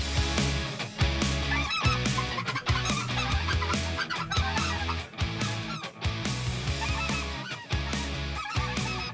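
A large flock of white-fronted geese honks continuously and loudly, overlapping calls from many birds close by, with no speech.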